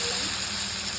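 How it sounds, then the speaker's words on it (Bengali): Whole spices, dried red chillies, bay leaves, cumin and five-spice mix, sizzle in hot oil for a khichuri tempering, giving a steady, close, bright hiss for about a second with no talk. "দেখো ফোড়ন দিয়ে একবারে মশলাটা বসিয়ে দেবো, এই শুকনো লঙ্কাগুলো দেবো, এই তেজপাতাগুলো দেবো, আর দেবো জিরে আর 5 ফোড়ন"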